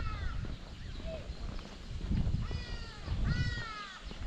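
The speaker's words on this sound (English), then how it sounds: "I think you can already hear where these birds are" Several crows give harsh cawing calls outdoors in an area favored by birds, a few spaced caws followed by clustered bursts of calls, moderately close over a steady background hum.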